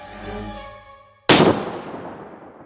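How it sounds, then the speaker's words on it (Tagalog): A single sharp gunshot in a Tagalog horror story cracks loudly out of a fading sustained musical tone, then decays into a rumbling echo. "Pinaputok ko ang baril at nakita kong napuruhan siya sa tiyan."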